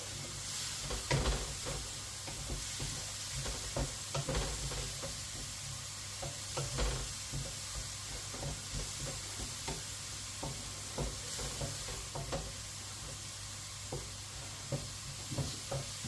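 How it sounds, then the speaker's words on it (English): Garlic and softened leeks frying in a pan for a chicken, ham and leek pie, with a steady close sizzle and occasional stirring scrapes and knocks throughout. "the leeks have softened up nicely, so I'm just going to add the garlic. Cook that through a second."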